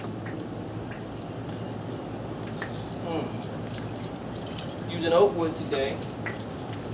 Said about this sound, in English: As you can see, the rain's not too bad right now,